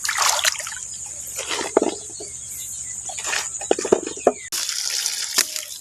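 Freshly dug water chestnut corms washed in running water, with a steady close trickle and pour punctuated by splashes and sharp knocks as they are handled, the flow briefly stopping and restarting.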